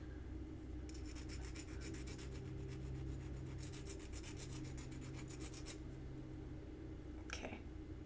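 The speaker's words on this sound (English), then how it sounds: "we're just gonna file it and remove any sharp edges" Dense raspy filing of metal edges to knock off sharp points and form a slight bevel, steady close strokes running for several seconds, then a brief scrape near the end.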